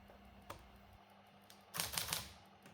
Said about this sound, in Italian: La tastiera è simile a quelle delle macchine meccaniche, ma ha il tocco molto più morbido, basta sfiorare i tasti.